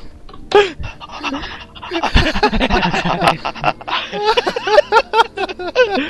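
Monsters in the Cry of Fear horror game pant in quick, breathy rasping bursts, loud and close, mixed with harsh laughing or snickering vocal sounds.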